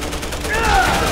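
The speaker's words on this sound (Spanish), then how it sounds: "¿quién está disparando ahora?" Gunfire bursts in a Resident Evil 6 game session, a loud rapid crackle of shots over a continuous noisy game soundscape with some tonal effects.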